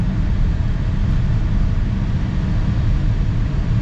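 Steady, even cabin road noise inside a moving 2025 BMW X5 M60i, a constant low rumble and tire roar with no speech, unbroken for the whole stretch.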